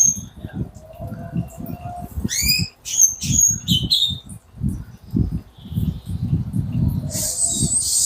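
A white-rumped shama (murai batu) gives clear, sweet whistled phrases and rising chirps over someone speaking Indonesian, the bird notes bright and fairly close, coming in short bursts.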